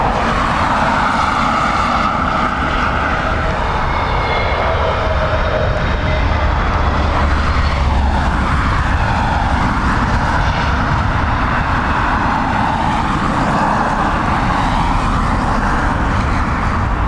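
Airplane arriving in a stormy crosswind at Dublin Airport, heard as a steady loud engine roar mixed with strong wind rumble that stays constant throughout, with no voices.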